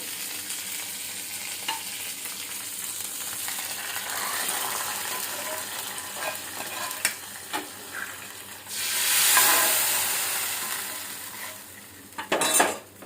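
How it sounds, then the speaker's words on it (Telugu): Tempering crackles in a pan for coriander charu (dhaniyala charu), with onion, curry leaves and a little mint added: a low sizzle throughout, scattered clinks of a utensil, and a louder burst of frying near the end. "దీన్ని తాలింపులో వేసేసుకోవడమే."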